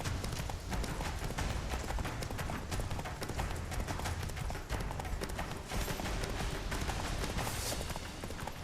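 Roach, a horse in The Witcher 3, gallops steadily with a dense, rapid drumming of hooves, loud and continuous throughout.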